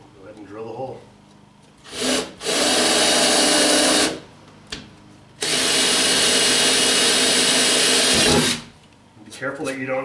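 Close, loud power drill boring a small pilot hole into a truck cab, running in two long sustained bursts of steady high whine, the second lasting about three seconds, separated by brief pauses and light handling clatter.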